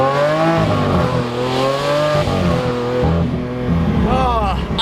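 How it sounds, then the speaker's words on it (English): Lamborghini V12 engine revving from inside the car, loud rising and falling harmonic engine tones with repeated climbs in pitch as people talk over it. "There's nothing like a Lambo V12."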